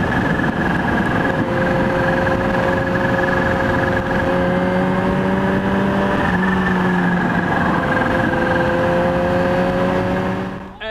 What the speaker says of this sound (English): This cracking little whistle, just reminding you that you're sat on this forced induction engine.